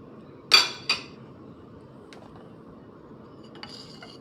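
A utensil stirs an eggplant omelette mixture of egg and eggplant in a bowl, giving two quick, bright clinks close together near the start, then near-silence with a faint tap or two.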